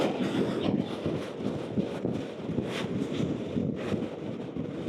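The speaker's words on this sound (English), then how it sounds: "That crosswind is crazy out here." Strong crosswind blowing outdoors, a loud continuous buffeting roar across the microphone with gusty surges and no voices.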